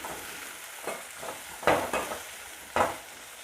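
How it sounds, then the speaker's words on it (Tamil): Onions are sautéed in a pan for potato kurma, with a soft background sizzle broken by several scraping stirs of a spoon, the two strongest strokes standing out near and clear. "இப்போ இந்த வெங்காயத்தை நல்லா வதக்கிக்கிடுவோம்."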